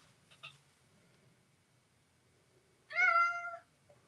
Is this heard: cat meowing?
yes